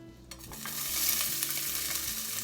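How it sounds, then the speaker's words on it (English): Chopped onions hit hot olive oil in a soup pot and burst into a loud, even sizzle that swells and holds steady, with a faint low hum underneath. "I'm going to now add some chopped onions"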